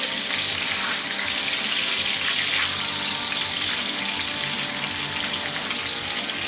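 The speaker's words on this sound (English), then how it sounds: "Let's get that bacon going." Bacon frying in a pan, a dense, loud, unbroken sizzle that hisses steadily from start to finish.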